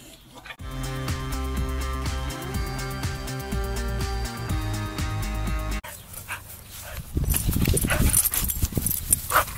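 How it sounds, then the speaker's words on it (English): A pet dog makes loud, bursting sounds near the end, after several seconds of music playing on its own. "today we get to meet my dog"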